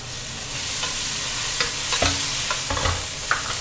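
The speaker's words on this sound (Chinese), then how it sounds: "来，直接炒菜。" Long beans with preserved radish and minced pork stir-fried in a wok, a close steady sizzle broken by scraping clatters of the spatula against the pan, with no talking.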